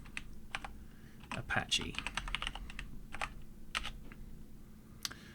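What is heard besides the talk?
typing a command on a computer keyboard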